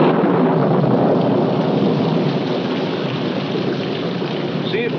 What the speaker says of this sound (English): Has gone far in this rain.